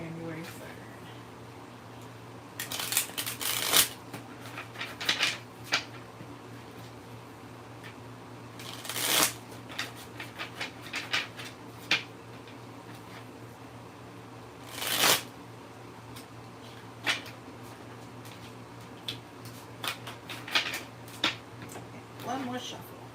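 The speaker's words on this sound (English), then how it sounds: "One more shuffle." Tarot cards shuffled by hand, giving several bursts of crisp riffling and flicking with pauses between, over a low steady hum of the room, with someone talking quietly in between.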